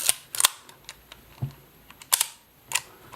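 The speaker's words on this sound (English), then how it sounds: "If I go through the shutter speeds on this for you, so you can kind of, because this one sounds about right. So 15th of a second" A Kodak Retinette 1B film camera's leaf shutter fires at 1/15 second and is wound on, with several sharp mechanical clicks and ratcheting snaps heard close up in quiet surroundings.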